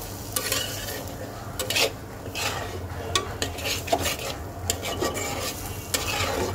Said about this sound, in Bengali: হলুদ আর ধনে গুঁড়াটা দিয়ে দেওয়ার পর সুন্দর করে সব কিছুর সাথে মিক্স করে এটাকে সময় নিয়ে ভাজা করতে হবে মশলাটাকে